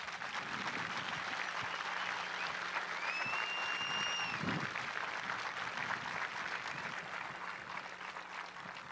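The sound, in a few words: audience applauding drill instructors at Marine graduation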